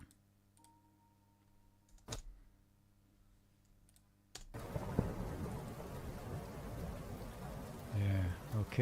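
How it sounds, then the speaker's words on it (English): A rain sound effect from a guitar effects plugin: a few sharp clicks over a low hum, then a steady, fairly loud wash of dense rain-like patter that swells and rolls on. "Definitely raining today."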